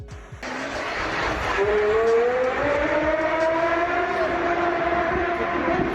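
A Porsche Carrera GT engine revs hard and close, its loud whining note climbing steadily in pitch across several seconds into a sustained, rising howl.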